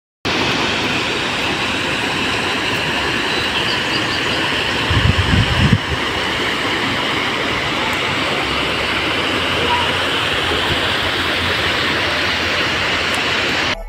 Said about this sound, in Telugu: ఒక్కసారి వాటర్ సౌండ్ వినండి